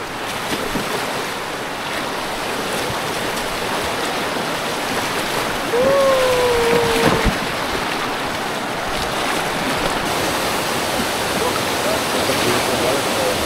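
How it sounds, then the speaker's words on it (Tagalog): Pagsanjan waterfall pours with a constant loud rushing roar of falling water, filling the scene steadily, with a brief whistle-like tone and a short swell partway through. "Ang dami ang waterfalls dito, no?"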